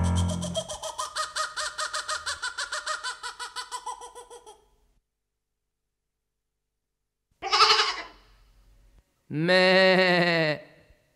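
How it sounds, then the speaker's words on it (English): Goat bleats come in a few separate bursts: a long, stuttering quavering call, then two shorter cries, clear and close with silence between. "Bill Grogan's goat."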